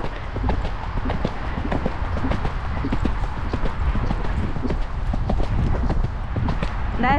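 A large horse canters through woods, its hooves pounding in a quick, steady three-beat rhythm close by, with breathing and rustling mixed in and a rider speaking briefly over it.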